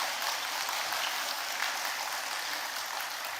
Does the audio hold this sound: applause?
yes